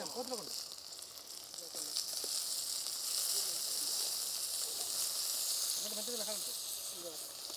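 Tomatoes and curry leaves sizzle steadily in a frying pan, a continuous bright hiss near and moderately loud, while a person talks intermittently over it.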